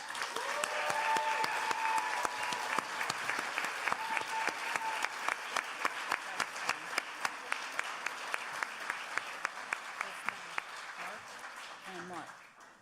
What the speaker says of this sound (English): Could we have one more round of applause?